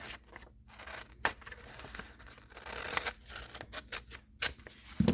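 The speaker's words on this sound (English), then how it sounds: "you're going to cut around the outside lines like this" Scissors cutting around a paper outline, a series of crisp close snips and rustles of the sheet at an uneven pace, no talking.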